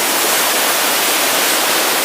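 Steady, loud rush of water pouring down a steep forest ravine near Netarhat, a continuous broad roar with no pauses and no voices.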